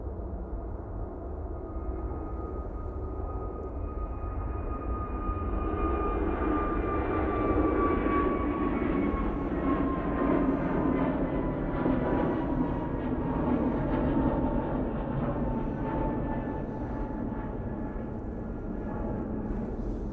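An EasyJet A321neo at Manchester Airport rolls for takeoff, its jet engines building into a sustained, loud roar with descending whining tones, rising then holding steady over about twenty seconds.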